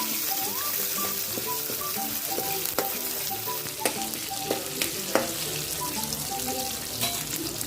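Cumin, ginger-garlic paste and green chilies fry in hot oil, giving a constant close sizzle with occasional stirring knocks from a spoon against the pan.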